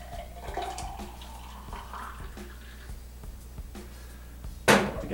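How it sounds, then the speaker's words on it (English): Fresh grapefruit juice from a Breville juicer is poured into a glass, making a quiet trickling, liquid sound and a few soft drips, then ending with a brief louder splash or clink. "we'll pour some of the Breville juice."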